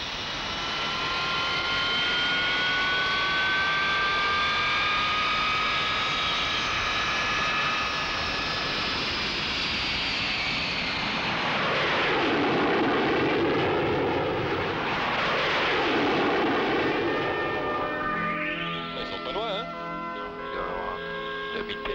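Steady, loud jet engine roar heard from inside the cockpit of a Mirage F1 flying in clean configuration without a fuel tank, with a speaking voice layered over the continuous drone.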